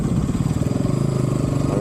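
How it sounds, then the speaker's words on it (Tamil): A petrol motorcycle's engine putters loudly at close range with a steady, rapid pulsing drone that holds for just under two seconds. "பெட்ரோல் வண்டி போகுது"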